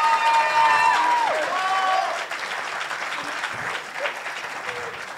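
Loud audience applause with cheers and whistles at a live Vox Milo show, bright whistle glides early on, then the clapping eases into a steadier, slightly quieter ovation.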